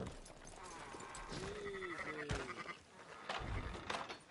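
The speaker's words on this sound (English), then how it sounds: "Fine sheep." A sheep bleats twice in quick wavering calls in Red Dead Redemption 2, set against a busy background of clattering and muffled noise.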